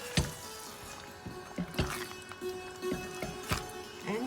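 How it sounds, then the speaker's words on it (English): Baby onion curry stirred in a pot in a village-style kitchen: wet, squishy scrapes and soft knocks come in irregular strokes close up, with no talking. "Mix it again."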